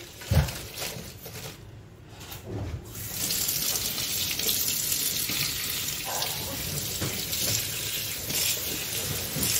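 Tap water runs in a steady hiss while items are washed in a kitchen sink, with a clatter near the start, a brief lull, then a continuous gush.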